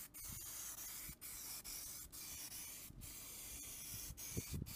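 A spray gun hisses steadily while laying primer on a 2000 Chevy Silverado, a soft continuous airy spray broken by brief gaps where the trigger is released.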